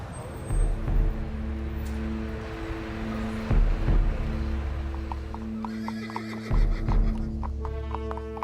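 A horse neighs several times while its hooves clip-clop at a trot, set over a steady low rumbling drone.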